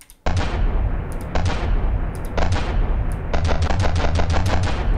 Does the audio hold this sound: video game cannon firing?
yes